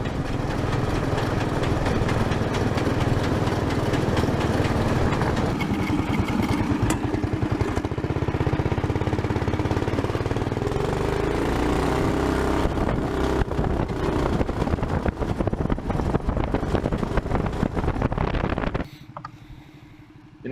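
A 420cc Stage 1 go-kart engine runs steadily and loudly nearby, a continuous rough buzzing drone that cuts off abruptly near the end.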